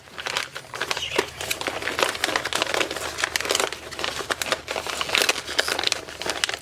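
A gift wrapped in pink flamingo wrapping paper is torn open by hand, producing continuous close crinkling and crumpling with a few sharper rips throughout, with no talking during the unwrapping.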